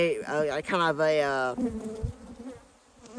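Honey bees buzz around small nucleus hives in October. A close, loud, wavering buzz shifts in pitch for the first second and a half, then settles into a softer, more diffuse hum.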